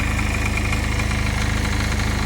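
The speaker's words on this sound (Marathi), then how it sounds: "ट्रॅक्टर झालो चालू" A farm tractor engine idles steadily close by, a dense low rhythmic throb with constant mechanical rattle and no pauses.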